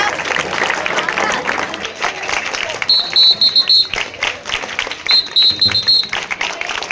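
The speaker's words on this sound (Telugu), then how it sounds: "క్లాప్ కొట్టండి రా మీ వద్ద." A crowd at an Independence Day celebration in Korukonda applauds kabaddi prize winners, with bursts of clapping and cheering close by, a voice calling over it and electronic beeps.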